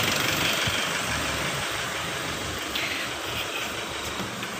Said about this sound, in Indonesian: Jadi coba kita akselerasi beberapa kali, kemudian kita matikan untuk bagian mesinnya.